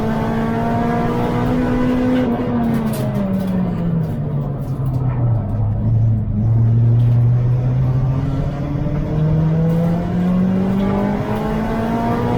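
A super saloon race car heard from onboard during a lap, with a loud engine droning steadily throughout and its pitch falling and then climbing again through a corner while it chases a VW Golf.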